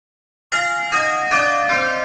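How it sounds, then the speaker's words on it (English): After a moment of silence, the first four church bells ring in change-ringing sequence, each bright, resonant strike coming about every 0.4 seconds and sustaining into the next, loud and clear with no voices. "Now watch the Sallys of the first 4 bells and see who is last."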